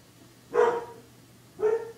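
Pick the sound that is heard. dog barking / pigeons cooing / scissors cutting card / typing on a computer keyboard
dog barking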